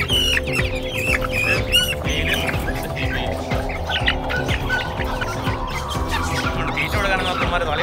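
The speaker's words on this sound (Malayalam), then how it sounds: "Colombian കോഴികളാട്ടോ, Colombian Brahma." Colombian Brahma chickens in a busy poultry shop give repeated clucks and squawks mixed with chirps from other birds, a dense continuous chorus over a low hum.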